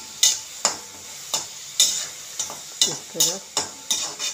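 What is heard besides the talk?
stirring and frying onions in a pan until golden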